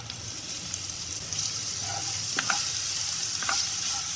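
Chopped onion and green chilli fry in oil for a veg momo filling, giving a continuous close hiss of sizzling with a few faint scrapes of stirring and no voices.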